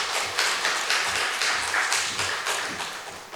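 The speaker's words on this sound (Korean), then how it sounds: "우리 목사님 나오실 때 박수로 우리 목사님을 환영해 주시기를 바랍니다." Church congregation clapping to welcome a pastor, a fairly even patter of many hands with a loose rhythmic pulse, moderately near and steady.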